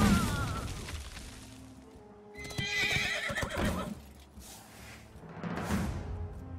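A horse neighs and whinnies from a Hearthstone card, with a whinny rising early on and a second, clearer neigh near the end, over game sound effects.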